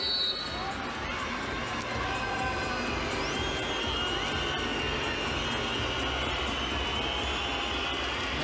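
A packed handball arena roars during the Denmark versus Norway World Championship final, dense, sustained crowd noise with cheering and shouting filling the space.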